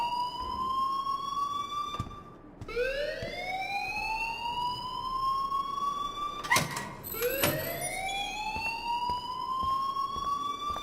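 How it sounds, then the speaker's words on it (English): An alarm in the video game Life Is Strange blares as a rising, wailing siren tone that sweeps upward in repeated cycles, loud and continuous, with sharp clanks in between. "please turn off that alarm since that's your job"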